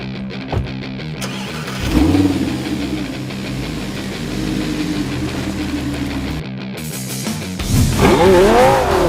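Lamborghini Gallardo LP550-2 V10 engine revving hard while driving, rising through the gears with sharp upshifts, a brief lift-off and another climbing pull, loud and close with no talk.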